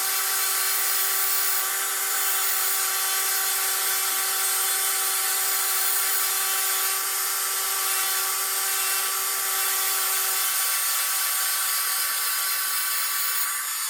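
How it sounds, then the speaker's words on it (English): A Dremel rotary tool with a football-shaped diamond burr grinds into an obsidian slab, a steady high-pitched whine with constant tonal hum held loud and unbroken throughout, no voices. "The diamond burr just really goes through this Obsidian."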